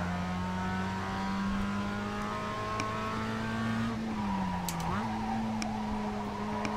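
A Mazda MX-5 in iRacing at Okayama holds a steady high-revving engine drone, dipping briefly as it shifts before climbing again, with someone talking over it.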